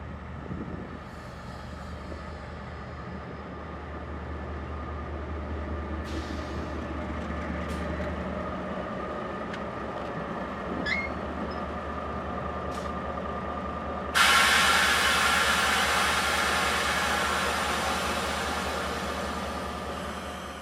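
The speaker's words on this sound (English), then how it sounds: "It wasn't long before train 247R showed up on its way to Wellington" A KiwiRail diesel train hauled by DL locomotives rumbles into a New Zealand station with a deep, steady engine drone, and a loud hiss of air brakes rises near the end as it draws to a stop close by.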